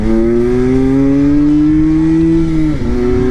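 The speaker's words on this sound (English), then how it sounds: "Can rev it pretty high because it's a two-stroke" A small Suzuki OR50 two-stroke motorcycle engine holds a loud, steady high-pitched rev close by, its buzzing tone climbing slowly before dipping briefly near the end and picking back up.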